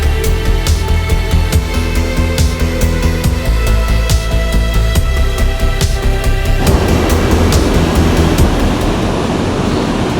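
Intense waterfall pouring down the side of a cliff beside a clear-water creek, a loud, constant roaring rush close by, with wind buffeting the microphone and sharp clicks scattered through it.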